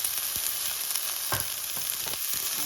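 Siyaw with sesame seeds is stir-fried in a hot pan, giving a constant bright sizzle broken by quick scraping strokes and a few soft knocks.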